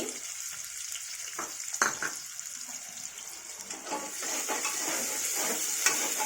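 Chopped onion tipped into a pan of garlic paste frying for masala khichdi, giving a bright sizzle with stirring scrapes and clatter that grows fuller and steadier toward the end.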